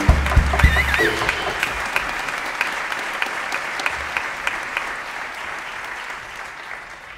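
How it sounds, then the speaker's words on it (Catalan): A concert audience claps after a jazz song performance, dense close applause that starts loud with a brief voice at the opening and slowly fades over several seconds. "Un fort aplaudiment."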